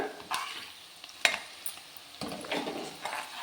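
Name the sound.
stir-frying vegetables for fried rice on high flame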